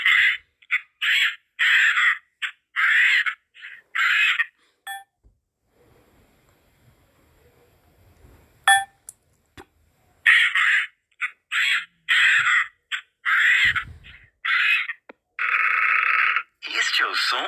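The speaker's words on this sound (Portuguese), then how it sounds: "Este é o som do papagaio." Parrot calls in rapid loud squawking bursts, grouped in two runs separated by a quiet gap, close and harsh with no other sound around them.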